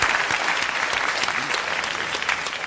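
Dense studio audience applause for a game show contestant, loud, continuous and evenly textured, with a voice faintly audible underneath.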